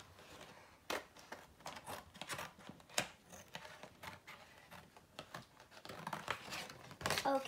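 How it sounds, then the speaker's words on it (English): Scissors cutting paper for shadow puppets make quiet, uneven snips and crisp rustles in quick succession, close by with no talk. "this takes a long time to cut, but I feel like it's gonna work. You just have to cut fast."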